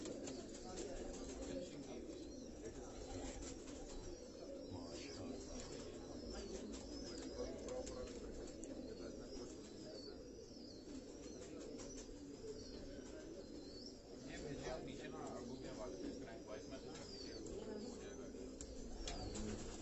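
Pigeons coo softly and steadily throughout, with a few chirps and occasional wing flaps, all under a constant broadband background, likely among a fancier's Karachi flock; voices seem to murmur faintly.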